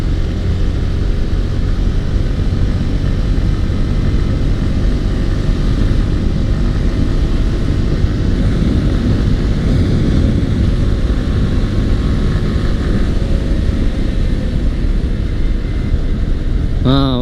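Yamaha R15 V4 motorcycle pushed hard at speed, a loud continuous engine drone with heavy wind roar, steady and close throughout without clear gear changes.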